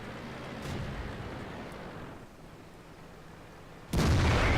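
A Sexton self-propelled gun in a tank video game fires its cannon: a sudden loud, close blast near the end that sets off a sustained roar, following several seconds of steady rumbling battle ambience.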